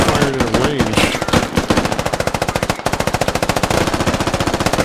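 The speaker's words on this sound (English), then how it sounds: "U.S. forces are firing at range." Rapid machine gun fire rattles in the Squad video game during a ranged firefight, with irregular early shots giving way to a long, steady, loud burst of evenly spaced rounds.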